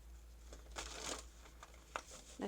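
Tarot cards shuffled by hand make soft papery riffles and slides in short irregular bursts, quiet and close over a low background hum.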